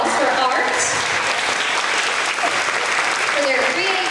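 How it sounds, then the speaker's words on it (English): Steady audience applause at a first-grade school awards event, honoring art award winners; dense continuous clapping throughout, with faint voices mixed in under it. "Let's give them a round of applause for art"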